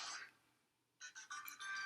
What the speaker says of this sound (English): Oh, and now we've got a phone call.